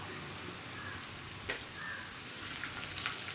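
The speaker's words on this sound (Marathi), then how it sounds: "कांदा आपल्याला परतवून घ्यायचा आहे थोडंसं मऊ झाला की आपण त्याच्यामध्ये मोहरी आणि जिरं टाकूया" Mustard seeds and cumin sizzling with onion in hot oil in a pan, a steady soft frying hiss with scattered tiny pops and crackles, close and fairly quiet, without talk.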